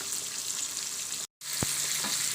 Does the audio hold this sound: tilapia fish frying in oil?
yes